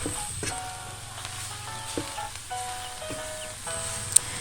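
Grated coconut and muscovado sugar being stirred in a hot pan: a low, steady sizzle with scraping stir strokes, moderately close, with no talking.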